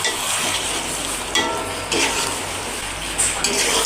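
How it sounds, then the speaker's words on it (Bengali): Spiced kosha mangsho meat stirred in a cooking pot, a steady close sizzle broken by a few louder scraping stirs, with no talking. "একটু নেড়ে দিই ভালো করে।"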